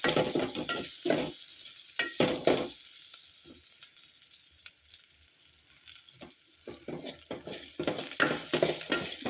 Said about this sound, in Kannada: ಲೈಟಾಗೆ ಹುರ್ಕೊಳ್ಳೋಣ